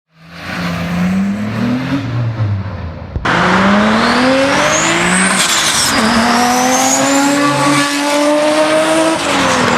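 A Mitsubishi 3-liter twin-turbocharged V6 making 320 horsepower, as in the 3000GT VR4, revs loudly and close up, its pitch climbing and falling through several sweeps with a brief drop partway before the engine surges again.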